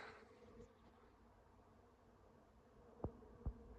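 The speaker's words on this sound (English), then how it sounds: "There's a lot of bees up there." A faint, steady insect buzz hums in the background, like bees droning at a distance, with two brief sharp knocks near the end.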